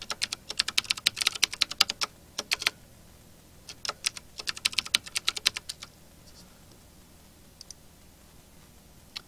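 Typing on a computer keyboard while setting up a user account, close bursts of quick clicking keystrokes with short pauses, tapering to a few isolated taps and quiet room tone.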